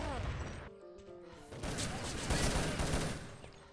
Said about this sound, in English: nades are being dished out around the wall, and XXIII catches a nade straight at his feet